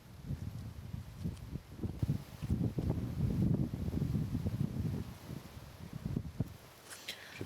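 Gusty wind buffets the microphone on a South Florida disc golf course, loud low rumbling bursts that swell and fade over several seconds with no talk.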